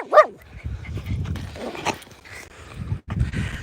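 Dogs bark and yip during a walk with a pack of seven dogs, one sharp bark near the start followed by scattered yelps and whimpers over outdoor background noise.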